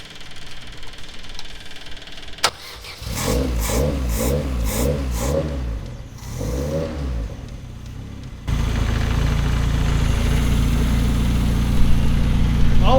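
Rally race car engine, a tarmac-spec build, running at a rough, uneven idle with a few throttle blips and surges, then settling into a loud, steady, close drone.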